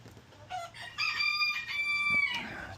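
Free-range hens on a rainy Georgia homestead cluck and squawk up close. A loud, drawn-out crowing-like call dominates the middle of the clip.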